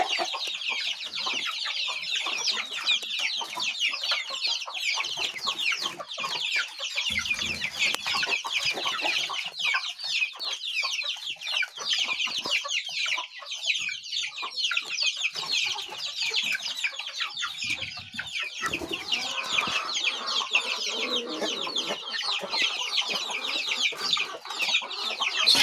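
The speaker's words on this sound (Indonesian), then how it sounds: "Ngumpanin ayam, Bu." Village chickens, including a laying hen, cluck and chatter continuously at feeding time in a rural hamlet in Panimbang. The dense, busy flock stays close and loud for the whole stretch, with no talk.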